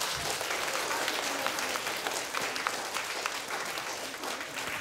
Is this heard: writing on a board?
no